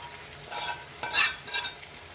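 Chicken pieces for chicken tikka sizzle and crackle in hot oil in a few short bursts, with stirring scrapes between them.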